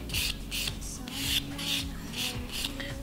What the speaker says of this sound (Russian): для того, чтобы у меня не растекались краски по поверхности, я пройдусь слегка шлифовщиком